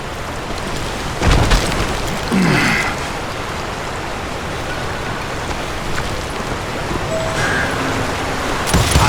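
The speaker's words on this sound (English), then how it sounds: "perched on the edge of a precipice overlooking a thundering whitewater river" Broad, steady rushing roar of whitewater below a precipice in the western game Call of Juarez: Gunslinger, continuous throughout with a few brief louder swells, no voices.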